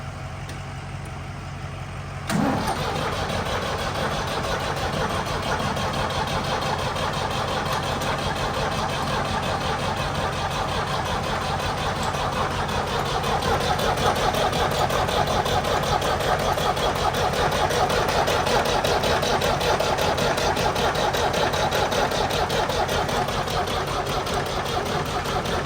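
An old Ford tractor engine cranks and catches after a couple of seconds, then settles into a steady, close, loud idle with a rhythmic mechanical chug that continues to the end.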